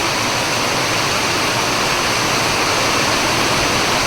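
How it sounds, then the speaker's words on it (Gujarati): Heavy rain hammers a shed roof in a dense, unbroken roar of noise that stays loud and constant throughout. "એટલામાં પાણી પાણી થઈ ગયું ખાલી પાંચ મિનિટ થઈ છે વરસાદ આવ્યા"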